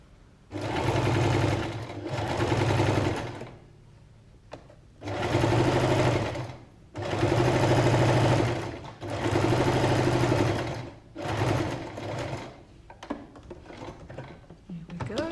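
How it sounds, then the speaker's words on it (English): Sewing machine stitching a skirt front and a curved hip pocket together: loud, close bursts of rapid mechanical whirring, each a second or two long, separated by short pauses as the fabric is repositioned. "we're going to do a little row of stitching around here."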